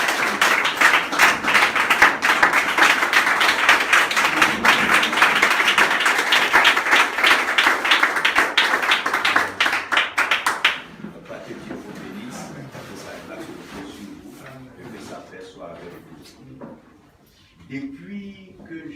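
Applause and clapping from a church congregation, loud and sustained for about ten seconds, then fading out to a quieter room with scattered murmurs.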